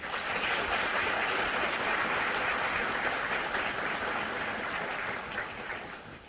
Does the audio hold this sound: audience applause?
yes